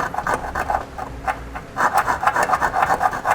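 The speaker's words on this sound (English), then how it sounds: "We'll now use a file to widen this hole just a little bit." Close, rhythmic rasping of a metal file widening a drilled hole in a 2017 Ford C-Max's frame for a Curt trailer hitch bolt, with repeated back-and-forth strokes and no talking.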